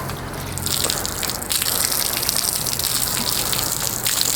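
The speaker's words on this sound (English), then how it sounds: "I'm actually going to rinse it off" Steady rushing spray of water rinsing a car's surface, loud and continuous, with slight shifts in intensity as the stream moves.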